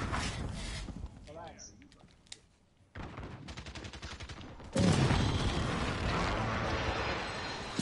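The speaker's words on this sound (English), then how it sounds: "Airstrike in this spawn." Airstrike in a Call of Duty match: rattling gunfire and rumbling blasts, with a loud sustained roar of explosions in the final seconds and speech mixed in.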